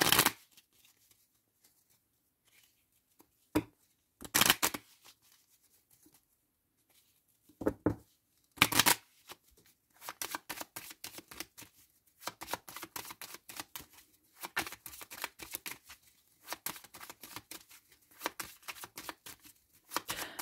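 Oracle cards are handled and covered on a table: a few scattered sharp slaps early on, then a long run of quick, crisp riffling and flicking clicks, close and dry with no talking.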